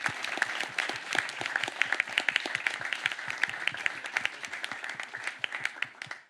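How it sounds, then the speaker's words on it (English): Audience applause for a presenting team at a Data Punkers tech meetup, a dense run of many hands clapping at steady volume for about six seconds before cutting off, with no talking over it. "So a big applause for the team of Rohlík."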